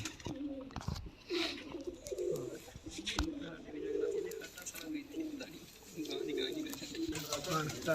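Sialkoti pigeons at a breeder's home coo in soft, repeated low murmurs at close range, with brief handling noises scattered throughout.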